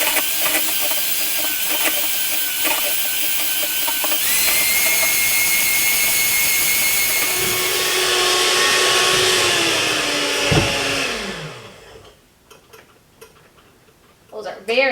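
Hand mixer whirring steadily while beating eggs to a froth for a Victoria sponge cake, a continuous mechanical hum that cuts out near the end, leaving brief rustles and a voice.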